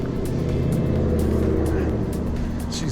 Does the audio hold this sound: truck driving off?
yes